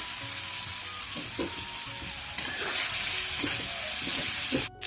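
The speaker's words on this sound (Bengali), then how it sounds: "এখন এর ভালো করে ভাজি লমু।" Chopped onions fry in hot soybean oil in a wok, giving a steady close sizzle with faint stirring clicks that stops abruptly near the end.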